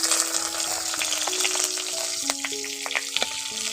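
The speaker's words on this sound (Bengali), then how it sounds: "এবার দিয়ে দিচ্ছি পেঁয়াজ কুচি।" Chopped onion frying in hot oil, for a Malabar spinach curry, sizzles loudly and steadily up close, with intermittent scraping and clinking of a stirring spoon on the pan.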